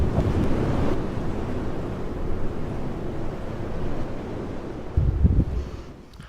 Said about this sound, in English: The wind's quietened off a bit now.